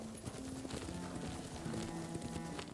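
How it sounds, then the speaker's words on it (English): Horse hooves clip-clop steadily in Ghost of Tsushima, a regular rhythmic patter at moderate volume over low game music. "Watch out for horse."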